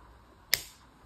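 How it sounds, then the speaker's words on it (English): Flush cutters give one sharp, close snip as they cut through jewelry wire, and the click stands out alone against a quiet room. "All right, Carrie, we're going to flush cut first"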